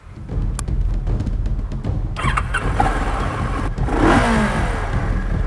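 A 2011 Kawasaki Ninja parallel-twin motorcycle engine cranks and fires up, settling into a rough, pulsing idle with a brief rev, loud and close.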